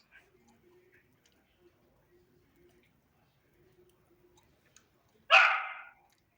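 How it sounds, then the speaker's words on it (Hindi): A single loud dog bark cuts in near the end, breaking a quiet stretch with faint background sounds during an online maths class. "अनुमा, आपके डॉगी ने अटेंडेंस लगा दी।"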